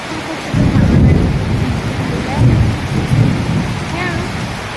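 Heavy rain patters steadily on surfaces while deep thunder rumbles roll in several swelling waves, close and loud, with no talk over it.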